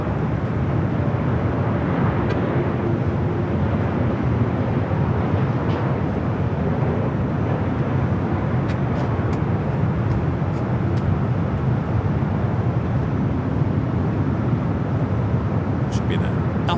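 A Malaysia Airlines jet named Queen, delivered in 1989 and flying in from Mexico City, arrives on runway 25 left at LAX with a continuous broad roar. Talk runs over the steady jet noise.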